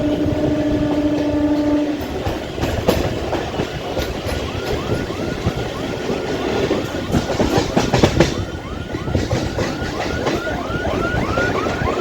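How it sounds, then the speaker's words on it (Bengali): A crowded Sealdah–Canning suburban local train on the Sealdah South line runs steadily with a loud continuous rumble and clattering wheels, a horn sounding at the start and repeated squeals and rattles throughout. "ট্রেন এখন আমাদের চলে এসেছে চাম্পাহাটিতে"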